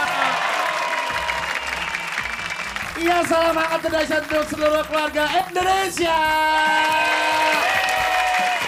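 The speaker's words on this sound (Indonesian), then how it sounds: "Tepuk tangan dong." Studio audience clapping on an Indonesian morning TV variety show, with a presenter speaking over it and music joining partway through.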